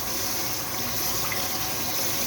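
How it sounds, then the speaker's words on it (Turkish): Tap water runs steadily into a kitchen sink as food is washed, a continuous loud hiss and splash with no break and no voices. "Bunlar bir güzelce biz de yıkayalım"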